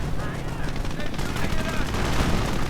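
Rapid bursts of machine gun fire in a World War II strategy video game, dense crackling volleys layered with distant battle noise and a commentator talking over it.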